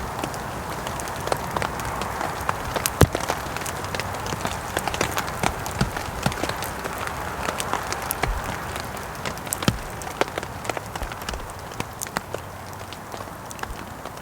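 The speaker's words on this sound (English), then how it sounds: "it's just a really nice noise, relaxing sound on the tarp, watching the fire, listening to the rain" Rain patters on a tarp at a December wild camp in dense, irregular drumming taps, with sharper individual drops standing out over a constant close hiss, and no talk.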